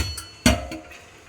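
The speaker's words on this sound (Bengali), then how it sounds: "এখন একটা ঢাকনা দিয়ে ভালো করে ঢেকে দিব।" Single sharp clank of a lid set onto a kitchen pot of fish soaking in lemon water, one brief close knock with a faint ring fading afterward.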